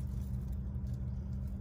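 A truck maneuvering to hook onto a manufactured house on delivery day gives a steady, close low engine rumble, a continuous drone with no talking.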